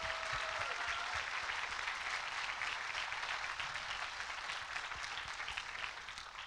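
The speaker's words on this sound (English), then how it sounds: "So please, a round of applause for Miss Rita." Sustained audience applause fills a graduation ceremony hall, a dense, steady wash of many hands clapping that carries on throughout and tapers slightly near the end.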